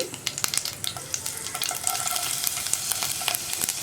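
Chopped ginger frying and being stirred in a pan with urad dal for aval upma, a steady close sizzle broken by frequent scraping, clicking strokes of the spoon against the pan, with no talking.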